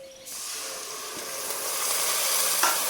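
Onion paste dropped into a hot pan for a fish curry, bursting into a loud continuous sizzle and hiss that holds steady.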